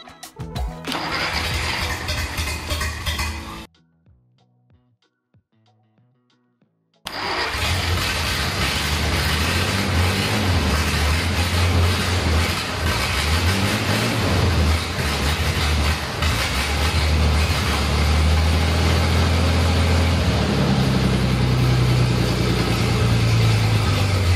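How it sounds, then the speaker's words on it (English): A 1953 GAZ-12 ZIM car engine cranks and catches after a short silence, then settles into a loud, steady idle with a deep, uneven rumble that continues throughout. "The engine is running fine now."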